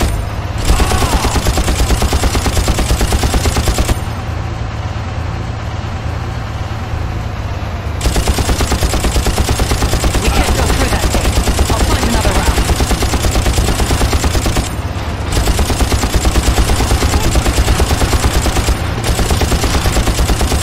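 Mounted machine gun on a moving vehicle in a Far Cry swamp mission blasts sustained, loud bursts of automatic fire over a rumbling engine, with brief pauses between volleys.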